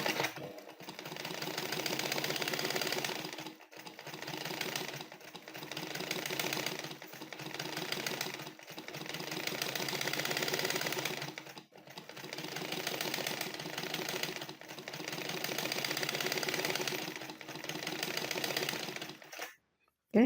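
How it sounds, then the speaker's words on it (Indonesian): A black sewing machine set up for quilting stitches loops to test thread tension, running in steady whirring bursts of a second or two separated by brief pauses. "sekarang kita akan cek tensi dengan cara mengequilt atau menjahit bentuk loop"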